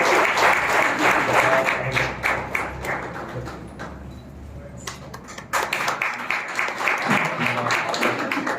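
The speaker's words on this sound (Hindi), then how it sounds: "आपकी जोरदार तालियां बजनी चाहिए डॉक्टर अश्विनी काम्बोज जी के लिए।" Loud audience applause welcomes guest Dr. Ashwini Kamboj at a World Book Day public awareness lecture, a dense sustained clapping from a crowd that dips briefly midway, then surges back at full strength.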